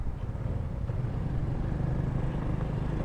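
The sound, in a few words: car exhaust following behind a motorcycle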